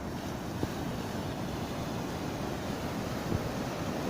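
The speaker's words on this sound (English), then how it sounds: "Listen to the waves." Ocean waves wash onto a foggy Gulf shore in a steady, soft broadband surf with wind noise, continuous and fairly distant without distinct breaks.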